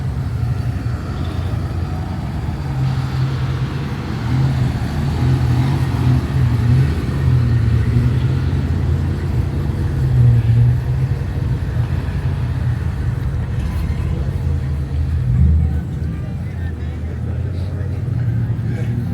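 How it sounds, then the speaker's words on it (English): A 1938 Chrysler Touring Sedan's flathead engine idles with a low, steady rumble close by at a classic car parade in Napier, New Zealand, with a faint swell near the end. "That's the old flathead engine in this one."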